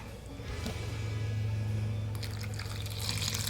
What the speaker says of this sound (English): I'm gonna add a ton of water to this too.